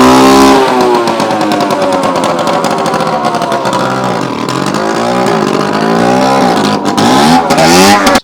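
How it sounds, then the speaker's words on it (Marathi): A vehicle engine runs loudly and close throughout, with a rough, continuous roar that rises and falls as it is revved, no talk over it. "चल की गाडी आता"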